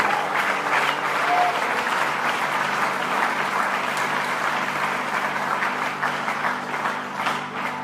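Church congregation applauding steadily, a dense continuous wash of clapping and crowd noise that holds loud throughout and eases slightly toward the end.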